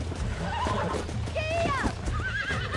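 A horse in Red Dead Redemption whinnies with rising and falling squeals over a busy bed of hooves and game noise, loud and close throughout.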